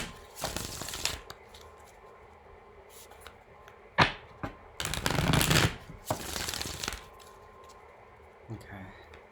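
Tarot cards shuffled in several quick riffling bursts with soft taps and card clicks between them, close and fairly loud, with a voice talking quietly at times.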